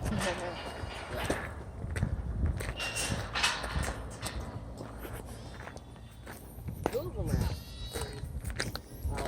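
Footsteps crunch along amid intermittent animal bleats, likely goats, with a voice talking nearby through much of it.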